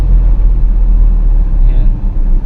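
Heavy, slow-moving road traffic on the Skyway toward Alabang and Laguna rumbles steadily nearby, a dense low engine drone from many vehicles with no break.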